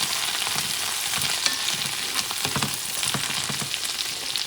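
Parsley sizzles in a pan over lowered heat while cooking lobster fettuccine, a steady close frying hiss with repeated soft stirring scrapes throughout, no voices.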